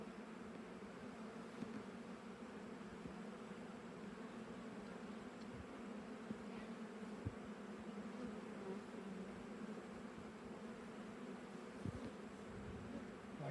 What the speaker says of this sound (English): love the frequency that the bees make